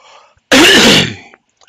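A single loud, harsh throat clear bursts out after a brief quiet moment, rasping for under a second before fading into silence.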